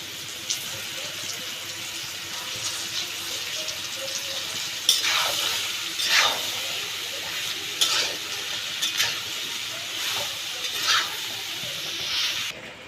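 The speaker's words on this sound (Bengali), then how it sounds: "এবার দেবো কেটে রাখা লাউ" Chopped bottle gourd (lau) with salt fries in a pan for a Bengali prawn dish, a soft sizzle under a series of distinct spatula stirs and scrapes recurring every second or two.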